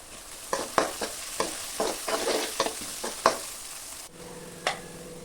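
Salted onions cooking in a pan for a ponnaganti leaf curry, a quiet sizzle broken by a series of spoon taps and stirring scrapes, then a steadier low hiss.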